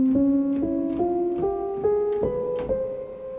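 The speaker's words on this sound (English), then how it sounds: "The first scale is the double harmonic scale" A plucked or struck melodic line in the double harmonic scale climbs stepwise through about eight clear, evenly spaced notes, each with a sharp attack and short ringing decay, played alone.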